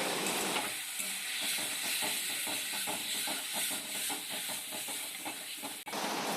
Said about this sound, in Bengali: এই যে মশলা দিয়ে কষিয়ে হালকা একটু জল দিয়ে দিলাম